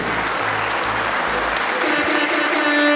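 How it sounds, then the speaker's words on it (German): An audience applauding two fighters after a drawn bout at a combat sports event, dense steady clapping from a crowd throughout, close and loud. "Applaus nochmal für die beiden Fighter"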